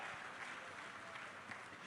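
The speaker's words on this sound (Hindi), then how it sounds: "तालियों की गड़गड़ाहट से" Audience clapping at an ISBT (interstate bus terminal) inauguration ceremony, a steady, dense wash of many hands held at an even level throughout, without talk over it.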